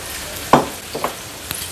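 Chopped onion with crushed ginger, garlic and chili frying in a pan: one sharp sizzling burst, then a few softer crackles over a low, steady hiss.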